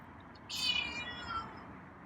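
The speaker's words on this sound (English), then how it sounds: "and then he let out a big meow" A single drawn-out meow from a feral cat rises and trails off, fairly faint against a steady background hiss.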